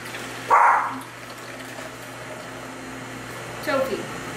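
A dog barks twice, a single sharp bark and then a second a few seconds later, over a steady low background hum.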